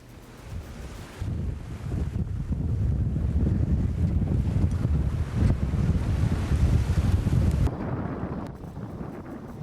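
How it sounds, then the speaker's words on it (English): Strong wind roars across the microphone aboard a sailboat racing along under head sails in rough weather, a dense, steady rush and buffet with wave wash underneath, loud and continuous until it eases near the end. "Still very windy and forecast to continue for several days."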